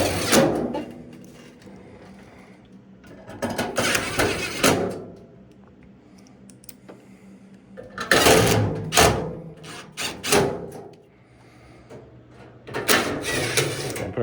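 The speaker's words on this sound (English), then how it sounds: "And now we're gonna go ahead and put the screws back in this." Screws are driven back into the top panel of an LG dryer during a thermal fuse repair, making intermittent bursts of tool noise and metallic clatter with quieter gaps between them, close up and fairly loud.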